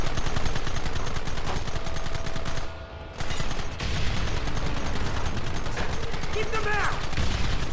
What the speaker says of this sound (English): I'm taking an awful lot of shots here